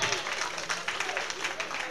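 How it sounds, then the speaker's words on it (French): Crowd applause at an evening awards ceremony in Paris, dense steady clapping from a large audience with voices mixed in throughout. "il faut l'applaudir, s'il vous plaît"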